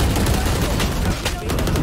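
Rapid gunfire during a Valorant match on the Haven map, a dense burst of overlapping shots lasting under two seconds, loud and close with a brief dip near the end.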